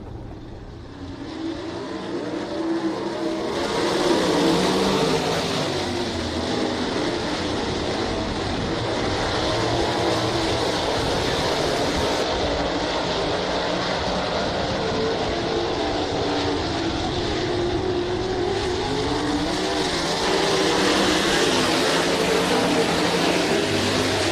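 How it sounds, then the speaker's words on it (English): 360 sprint cars racing in a qualifying heat at Ohsweken Speedway, a continuous loud roar of multiple engines passing and droning around the dirt track, with no talk. "Sounds of Ohsweken Speedway here in the second qualifying heat of the night for the 360 Sprint Cars"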